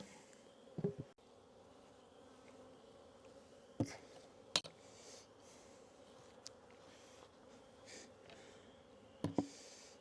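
Honey bees buzz around backyard hives during a spell of good weather while their keeper feeds them syrup, a steady low drone with a few sharper close passes and knocks, no talk.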